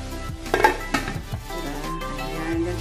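A lid goes onto a cooking pot of gatang kalabasa with shrimp, a short metallic clatter and clink close by, followed by a soft simmering hum.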